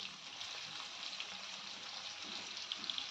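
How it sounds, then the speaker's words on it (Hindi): Paneer frying in hot oil, a steady soft sizzle with a faint hiss and occasional tiny pops, quiet and continuous with no talking. "तेल को गर्म करने के बाद ना मैं इन पनीर को फ्राई कर लूँगी"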